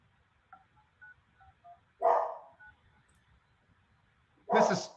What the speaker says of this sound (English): Okay, I'm calling him right now.